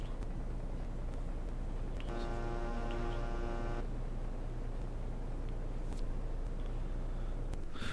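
A vehicle horn gives one sustained, steady honk of about two seconds, heard at a distance over a constant low rumble of wind and engine noise, with no talk.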